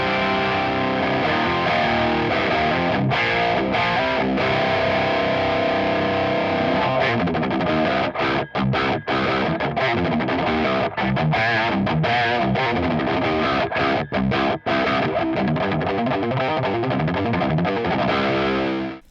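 Electric guitar played through a Valeton OD-10 overdrive pedal with the gain turned fully up, a thick, loud distorted tone of sustained chords and riffs with brief choppy stops, no hiss apparent.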